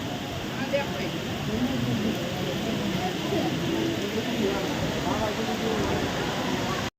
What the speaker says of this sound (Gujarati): ખોડલ ધામમાં આજે વરસાદ ચાલુ થઈ ગયો.